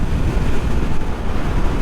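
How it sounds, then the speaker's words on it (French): Strong wind buffets the rider on a 2025 Kawasaki Z900 motorcycle, a loud, constant low roar of gusting air over the helmet with no talk. "Ah vache, il y a un ZEF."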